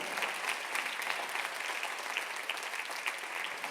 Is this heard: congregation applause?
yes